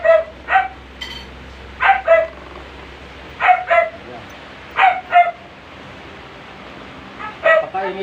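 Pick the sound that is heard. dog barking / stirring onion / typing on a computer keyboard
dog barking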